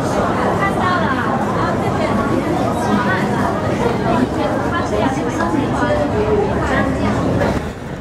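Dense crowd chatter fills a busy Mong Kok shopping street in Hong Kong, a loud, continuous babble of many nearby voices with no pauses.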